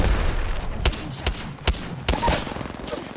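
Kraber sniper rifle shots ring out in Apex Legends, loud and close. Several sharp reports come at irregular intervals, one after another, over the continuous game soundscape.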